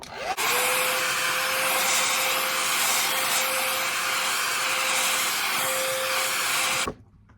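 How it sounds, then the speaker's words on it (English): A blow dryer whirs steadily at close range for about seven seconds, with a constant motor whine, then cuts off abruptly. "I use a blow dryer just to kind of hurry the process up."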